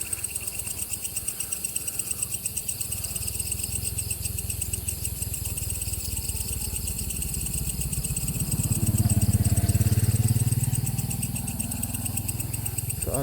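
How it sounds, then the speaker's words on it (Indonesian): A motorcycle engine hums low on a dark road near a railway bridge, swelling briefly as it passes closer midway, under steady loud cricket and insect chirring. "Jadi di sini bentar ada motor"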